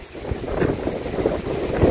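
Strong wind gusting and roaring against the microphone, a low rumbling rush that swells and fades in waves.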